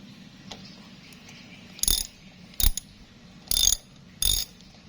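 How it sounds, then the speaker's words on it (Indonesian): A 12 mm wrench loosens the gear oil bolt on a Suzuki Address scooter. Four short, sharp metallic ratcheting bursts come about a second apart over quiet workshop background. "Saya gunakan kunci 12 mm untuk membuka baut oli gear."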